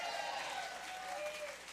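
Audience applause at a live country music radio show, steady dense clapping from a crowd throughout, fairly close and continuous with no talk over it.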